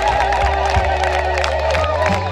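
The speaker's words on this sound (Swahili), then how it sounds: "Vigelegele kwa Jehova." A congregation at a thanksgiving ceremony ululates in praise, with high wavering trills rising together over a loud, steady crowd din and scattered cheers throughout.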